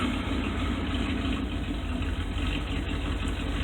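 A 1976 Dodge D100 pickup's 318 V8 with a four-barrel Quadrajet carburetor idles slowly and steadily, a close, loud, low rumbling burble with an even pulse throughout.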